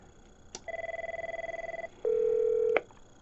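An Avaya IP Office desk phone plays a short rapid beeping burst when a speed-dial button is pressed, then a steady single tone ending in a click. The sounds are close and clear, with no speech.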